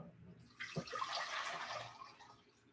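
Liquid pours into a cooking pot for dumplings, a faint, steady splashing stream that swells and then tapers off over a few seconds.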